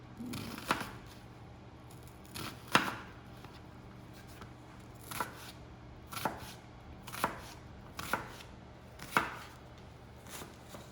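Knife chopping food on a cutting board while preparing a spaghetti alternative, a series of sharp, distinct thuds at an uneven, unhurried pace, about eight strikes, close and clear with quiet room tone between.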